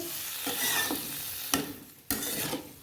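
Drumsticks and potatoes in a curry are stirred in a pan, with close scraping strokes over a steady sizzle and a couple of sharp clacks of the utensil against the pan.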